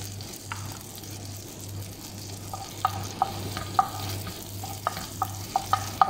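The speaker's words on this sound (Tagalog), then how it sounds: "Golden brown lang natin ang bawang bago natin ilagay ang shrimp" Garlic frying in butter in a pan for prawn pasta, a soft steady sizzle with a low hum beneath and a string of light clicks as it is stirred, close and fairly quiet with no talking.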